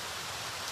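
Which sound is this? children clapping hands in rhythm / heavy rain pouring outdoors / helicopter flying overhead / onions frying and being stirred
heavy rain pouring outdoors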